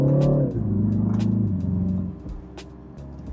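A 2020 BMW 330i xDrive (G20) launches from a stop at a light in sport mode, its engine revving loud and close, rising in pitch then dropping at an upshift around two seconds in.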